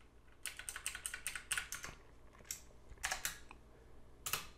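Quick bursts of keystrokes on a computer keyboard, a fast run of about ten taps, a pause, then a few scattered presses, close and clear in a quiet room.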